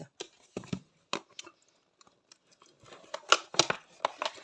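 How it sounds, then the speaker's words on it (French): A crochet flamingo kit being unboxed: scattered rustling, tapping and crinkling of packaging, sparse at first and then busier and louder toward the end, with no talking. "On va déballer ensemble ce kit."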